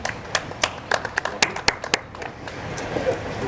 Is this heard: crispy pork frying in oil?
no